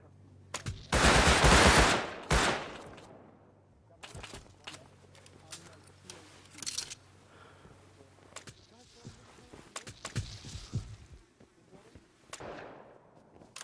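Rapid automatic AK rifle fire in the survival game Rust, a loud dense burst near the start followed by scattered shorter volleys and single cracks, with players talking over much of it.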